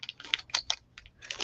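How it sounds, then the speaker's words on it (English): A bunch of old keys being handled close by, giving a quick series of bright metallic jingles and clicks in an irregular rhythm. "This must be all my keys I used to have hanging on my door."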